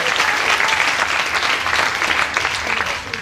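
A concert audience at a school music event applauds steadily, with dense clapping that holds throughout and fades slightly at the end.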